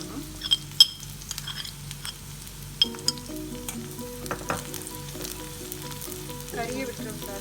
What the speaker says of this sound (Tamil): எண்ணெய் சூடாயிட்டு இந்த பூண்டும் சீரகமும் நச்சு வச்சுருக்கிறோம். இதை இந்த எண்ணெயில் சேர்த்து